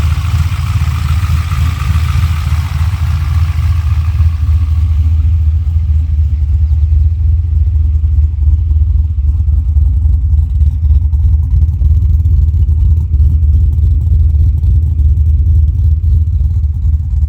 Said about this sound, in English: still sounds like a cammed LS.